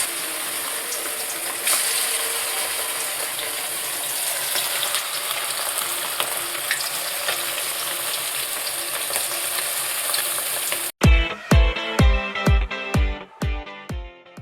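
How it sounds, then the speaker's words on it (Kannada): Kebabs sizzle steadily in hot oil, a loud continuous frying hiss for most of the stretch, then give way to a series of sharp rhythmic clanks near the end. "ಈಗ ಎಣ್ಣೆ ಕಾದಿದೆ, ಕಬಾಬ್ ಬೇಯಿಸೋಣ ಬನ್ನಿ"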